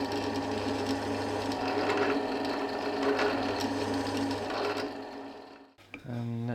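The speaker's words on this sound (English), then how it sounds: "I have set the countersink bit to go to the right depth, so just going to countersink all these holes." A drill fitted with a countersink bit cutting countersinks into holes in wood, a steady close whirring motor hum that runs continuously and then spins down briefly near the end.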